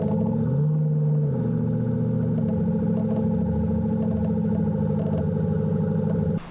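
Porsche 928 in moss green, V8 with the rear muffler deleted and replaced by a straight pipe, rumbling at a steady idle with a brief throttle blip early on; loud, close and continuous, no speech.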